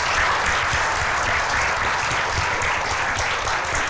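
Audience applauding an honoree at a celebration, a thick, even wash of many hands clapping, loud and sustained without pause.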